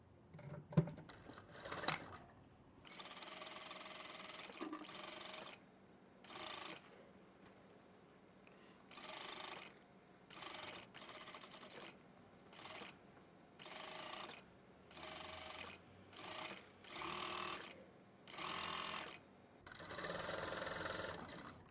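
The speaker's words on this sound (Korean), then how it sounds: "그냥 미싱 박는 거니까." A sewing machine stitches the front lining of a men's jacket in a rhythmic run of short, steady bursts separated by brief pauses, close and clear with no talking.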